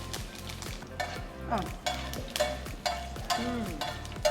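Urad dal and mustard seeds fry in hot oil in a home kitchen, a close sizzle broken by rhythmic scraping as a spoon stirs the pan every half second or so, with no voices.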